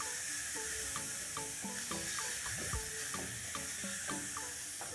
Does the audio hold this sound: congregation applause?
no